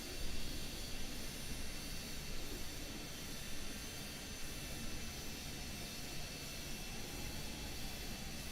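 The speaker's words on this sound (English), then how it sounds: "Just our plane making corrections" Steady, droning engine roar of a Dornier Do 31 VTOL jet aircraft cruising in Microsoft Flight Simulator 2020, a constant broadband hiss-and-rumble with no talk over it.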